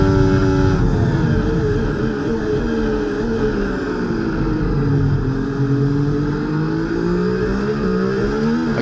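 An F1 car in the video game F1 24 races down the back straight at the Chinese Grand Prix on a partly wet track. A loud, continuous high-revving engine whine holds steady with slight pitch shifts throughout, close and unbroken.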